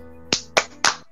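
Three sharp hand claps in quick succession from children clapping along to a sung Islamic kindergarten song, crisp and close over a faint sustained tone.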